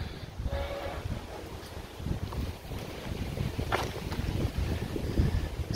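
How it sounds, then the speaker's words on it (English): Gusty wind buffets the microphone on a quiet neighbourhood street beside open green land in Quetzaltenango, Guatemala, a steady low roaring rush that swells and dips throughout, with no voices. "It's quite windy today."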